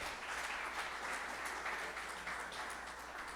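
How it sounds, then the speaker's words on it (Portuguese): Congregation applauding in church, a soft, even patter of many hands clapping at a distance with a faint hum beneath it. "Vamos aplaudir o Senhor, queridos?"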